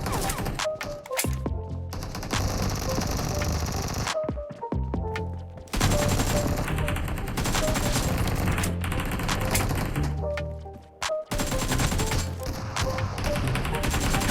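Gunfire in the BGMI mobile battle game comes as dense bursts of rapid automatic shots in several volleys, separated by short breaks and loud throughout.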